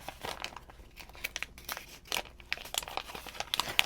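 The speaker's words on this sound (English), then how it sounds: "Do I need to cut this open or unfold it?" Folded paper crinkles and rustles in quick, close, dense bursts of handling, with no talking over it.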